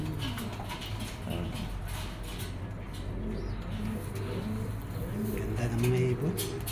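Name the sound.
racing pigeons cooing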